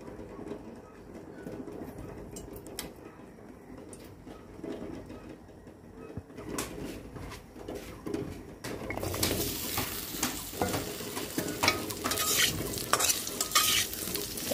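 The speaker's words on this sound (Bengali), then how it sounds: "এই আলুটা আমি এখন হালকা করে একটু ভেজে নেব।" Lightly frying potato pieces in a pan in a home kitchen give a soft, steady sizzle that grows louder and denser partway through, with occasional scraping or stirring and no voices.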